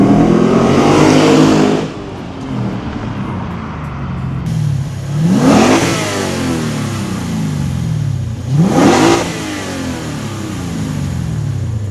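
A Lexus IS F V8 fitted with an X-Force cat-back exhaust drives along, its deep engine note rising in three distinct acceleration pulls with rumbling cruise in between, loud and close, without talk.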